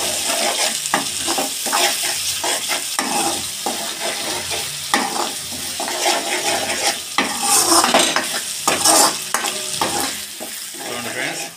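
Cauliflower curry masala paste is stirred in a sizzling pan, with repeated scraping strokes of a spoon against metal over a steady fry hiss. The sound is close and loud, with no voices.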